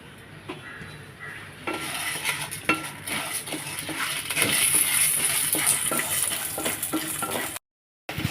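Toor dal and black peppercorns dry roasting in a pan, with steady scraping and stirring, light rattling of the grains and occasional clinks of a utensil against the metal, close and fairly quiet, no talk.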